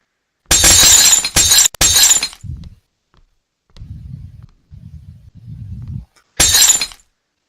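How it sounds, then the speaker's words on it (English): A pane of glass smashes in a video game: loud bright crashes in quick succession, followed by low tumbling thuds of debris, then another sharp shatter at the end. "And then you break another pane of glass to get out of the lab."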